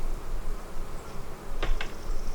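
Honey bees buzz at an opened beehive during a farm yard inspection, with smoke just applied. A low, steady drone holds throughout, and two brief, sharper buzzes from single bees pass close by near the end.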